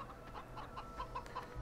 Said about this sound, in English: we've got our chickens